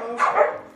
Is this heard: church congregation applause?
no